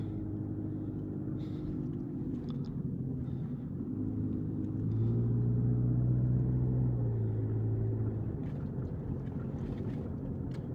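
Vehicles drive through a flooded street in McKeesport, Pennsylvania, giving a steady low engine rumble with water swishing, swelling as one passes close in the middle, with faint wind noise.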